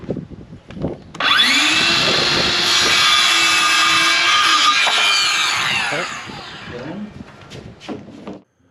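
A power tool cuts through a 4x8 sheet of PVC plastic while building a box. It is a loud, steady, high whine lasting several seconds, then trails off into quieter handling noise and voices.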